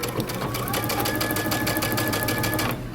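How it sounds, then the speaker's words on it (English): A sewing machine runs in a steady, fast stitching burst while back stitching a bomber jacket seam, loud and close, then slows near the end. "we're going to back stitch"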